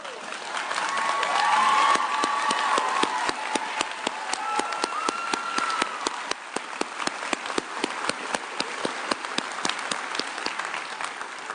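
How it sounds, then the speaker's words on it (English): Audience at a university spring commencement ceremony breaks into loud, sustained applause, a dense wash of clapping from many hands that thins into scattered individual claps as it continues. "please stand up so we can give you a round of applause"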